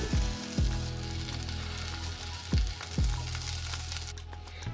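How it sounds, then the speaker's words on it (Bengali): Butter sizzles steadily in a hot pan, with a few sharp knocks and clatters from the pan, close up and without speech. "আমি এখানে একটা প্যান বসিয়ে দিয়েছি বাটার দিয়ে দিচ্ছি"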